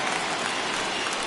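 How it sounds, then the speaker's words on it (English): Crowd noise from a baseball video game after a batter is hit by a pitch, a steady broadband murmur that fills the short moment evenly without clear voices standing out. "Yeah, I can hear the crowd murmuring now,"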